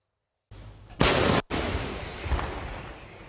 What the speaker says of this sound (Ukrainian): Снаряд калібру 155 міліметрів пронизує повітря неподалік Покровська.